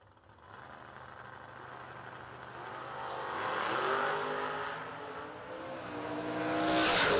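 Oldsmobile and Malibu drag race cars accelerate hard off the line at a dragstrip, a loud sustained engine roar rising in pitch and swelling toward a far-off passing whoosh, with no talk over it.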